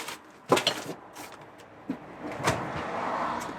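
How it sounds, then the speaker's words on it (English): A self-closing drawer in a camper van, a few quick knocks and slides followed by a soft gliding close and a muffled thud, close by and fairly quiet. "this drawer self-closes"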